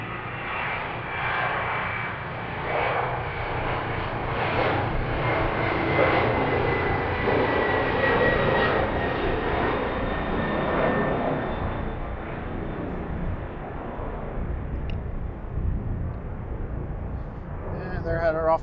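A heavy FedEx jet takes off from the runway at Harrisburg, its engines roaring loud and broad, holding a sustained rumble and then slowly fading. A voice talks over the noise.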